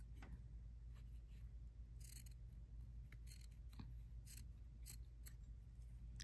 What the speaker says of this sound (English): I am just going to cut